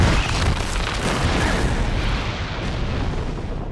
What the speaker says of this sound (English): The explosion just completely demolished the whole middle of the ship.